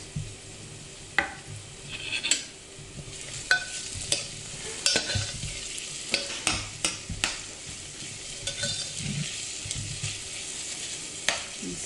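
Minced parsley and garlic being stirred into softened vegetables in a minestrone soup pot: a steady sizzle with repeated scraping spoon strokes and occasional sharp clinks against the pot, close and fairly quiet, with no talking.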